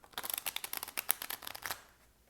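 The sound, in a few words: cards being shuffled for a reading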